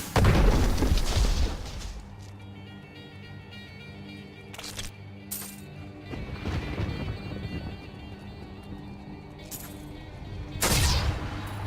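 Exploding monsters in Diablo III burst in heavy booms, a big blast at the start and a second near the end, with sharper pops between over a steady game soundscape.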